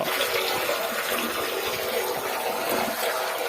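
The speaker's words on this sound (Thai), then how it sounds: "ก่อนที่จะผสมพันธุ์เราต้องล้างน้ำให้สะอาดนะครับ" Running water pours and splashes steadily as frogs are rinsed clean before breeding, a continuous close rushing wash with no talk over it.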